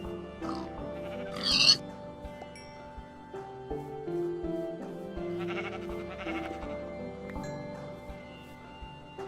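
Farm animal bleats and grunts from a pig in the Minecraft video game, several short calls over a busy game soundscape with steady background tones and ticks.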